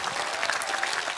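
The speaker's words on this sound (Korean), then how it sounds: "다시 한번 좀 큰 박수 보내주세요" Steady applause from a TV studio audience after a b-boy crew's dance performance, dense clapping that fills the whole moment without a break.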